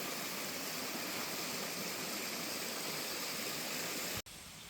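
Small thin waterfall on a mountainside, giving a constant close rush of falling water that holds steady and then cuts off sharply near the end.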